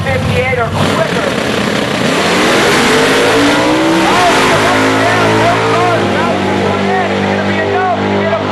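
Drag racing cars at a strip, a Malibu in the left lane among them, launch with loud sustained engine roar rising in pitch as they accelerate, close and continuous, with an announcer talking over the noise.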